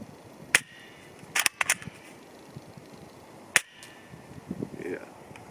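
Scorpion vz.61 submachine gun shots (Double Eagle airsoft version) during a 10 m accuracy test: a handful of sharp, snappy cracks, one isolated, then a quick pair, then another single, over faint background and soft talk.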